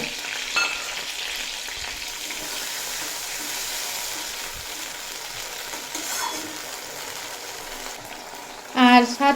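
Ground spice paste frying with tomato and eggplant in a pan, a steady close sizzle with stirring throughout and a brief louder splash and clatter near the end.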